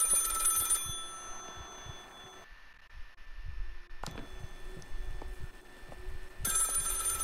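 A telephone rings in the horror game Maid of Sker, its electronic bell trilling in repeated bursts that break off into a short hush before the ringing comes back, close and clear with no talk.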